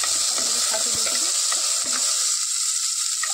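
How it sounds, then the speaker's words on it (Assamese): Paneer cubes and dry fruits fry steadily in a pan, a continuous bright sizzle with a few soft stirring clicks and scrapes spread through it, close and fairly loud. "পনীৰখিনি দি দিছোঁ আৰু এইখিনি অকণমান ভাজি দিছিলোঁ"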